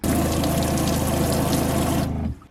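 Hot water heated by a van engine's calorifier tank runs out of a tap in a steady, loud, hissing gush that stops abruptly near the end.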